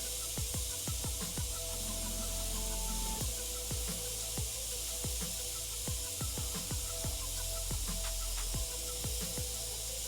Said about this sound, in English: I usually like to run an airbrush for a little while